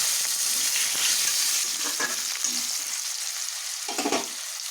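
Cut potatoes frying in hot oil with chilli, cumin and asafoetida, a steady loud sizzle throughout with a few stirring scrapes and clatters in the pan.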